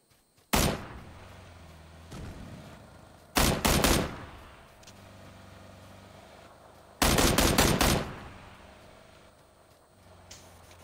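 Gunfire in PlayerUnknown's Battlegrounds comes in sharp, loud bursts: a single shot, a quick double shot, then a rapid volley of several rounds, separated by quieter ambient stretches and no speech.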